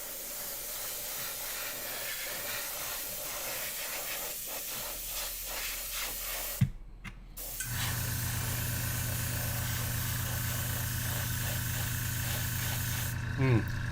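An airbrush sprays a Vallejo paint base coat on a miniature crab, first as a soft hiss, then after a brief pause as a steady, louder hiss with a low mechanical hum beneath.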